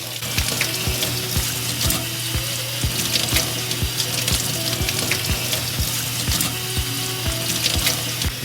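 Water runs steadily from a tap into a sink while a tie-dyed shirt is rinsed and wrung out, with continuous splashing and rhythmic dripping and sloshing throughout, close and fairly loud.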